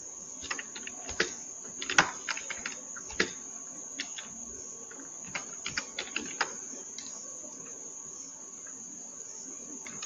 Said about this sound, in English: use the shift key and the tab key to select the print command. Then you press the enter key